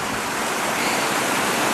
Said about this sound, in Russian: Мы дошли до самой верхушки водопада.